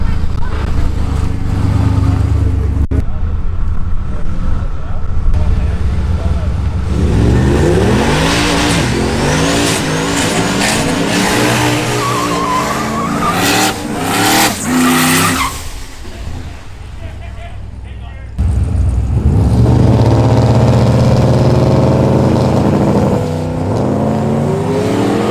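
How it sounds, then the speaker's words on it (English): A drag race car in a drag challenge launches and accelerates hard down the strip, with a loud revving engine that rises through gears, breaks off, then roars again near the end, with people talking over parts of it. "So we'll tune into Spicer now and see what happens, and we'll get to the start line."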